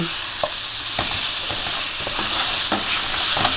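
A thickened tomato mix sizzles steadily in a frying pan while a utensil stirs and turns it, with repeated scraping strokes roughly every half second over the constant frying hiss.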